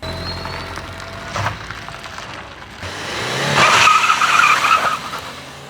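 A 14-year-old Maruti Suzuki Swift is driven, with engine and tyre noise rising and falling, a brief whoosh near the start and a louder, sustained surge with hissing road noise later on.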